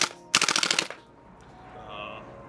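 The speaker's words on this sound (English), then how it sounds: "this is probably the hardest kicking Gas Blowback SMG that I've ever shot" Modify PP-2K gas blowback airsoft SMG firing a fast, loud burst of around eight sharp shots close to the mic, then quiet room tone and a faint hum afterward.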